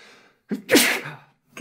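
A single sharp human sneeze, loud and close, comes after a short gasping inhale and then falls into quiet.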